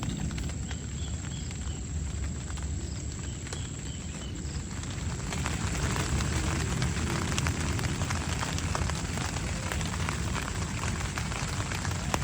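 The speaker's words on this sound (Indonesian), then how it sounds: "Ya di luar hujan teman-teman ya" Light drizzle falls outside a motorcycle campsite on Bukit Pandawa, a steady, even patter of raindrops on surfaces that holds continuously throughout, broadband and unbroken, with no voices present.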